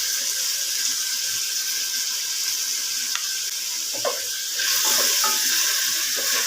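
Tomato and ginger-garlic paste sizzle in a pan for black chickpea biryani, a steady bright hiss that swells louder near the end, with a few light clinks of stirring.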